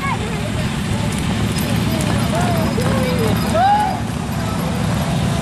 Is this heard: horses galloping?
yes